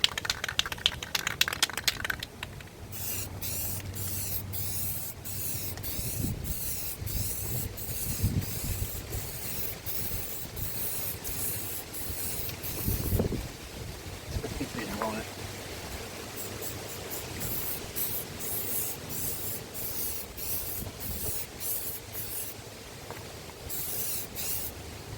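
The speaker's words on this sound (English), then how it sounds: "I'm gonna go ahead and spray this off camera" An aerosol spray can hisses in long continuous bursts over a Nissan car outdoors on a windy day, the steady broadband spray running for most of the stretch with brief pauses.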